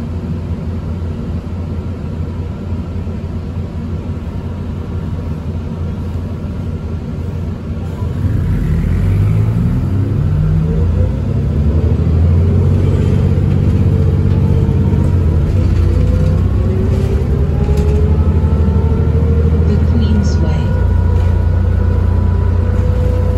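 A MiWay city bus rolls along Hurontario Street in Mississauga, heard from inside as a constant low engine rumble and road drone that swells and deepens as it accelerates partway through, with no voices.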